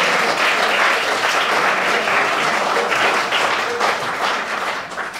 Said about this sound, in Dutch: Dus applaus voor Jan.